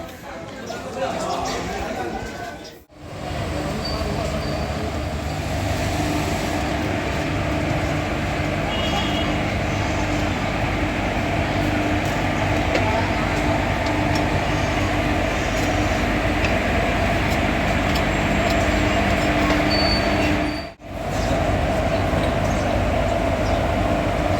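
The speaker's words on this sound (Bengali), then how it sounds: "এই ট্রেনটা সাহেবগঞ্জ চলে গেল" A steady, heavy rumble of a train departing for Sahebganj, rolling along the tracks, continuous and fairly loud, with voices faintly underneath.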